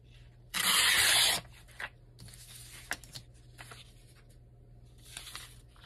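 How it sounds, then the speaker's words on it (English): Scissors cutting a blue piece out of a paper bag, opening with a loud, close crinkling rustle of paper, followed by a few softer scattered snips and scrapes. "I'm gonna cut this blue piece out."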